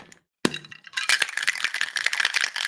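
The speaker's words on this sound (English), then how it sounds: "Then you just cap it off, give it a good shake." A capped cocktail shaker holding a doubled White Lady mix with ice is shaken hard, opening with one sharp clack and then a dense, rapid rattle of ice against the tin, loud and close, with no voices.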